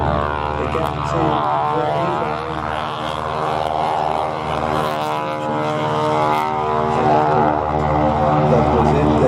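Douglas DC-3 Dakota at a flying display, its radial propeller engines giving a steady deep droning roar with rich throbbing harmonics, moderately loud and continuous throughout.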